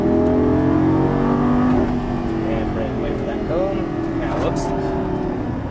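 Lamborghini Gallardo LP550 speeding up on a racing track, engine note climbing steadily from inside the cabin while an instructor talks over it.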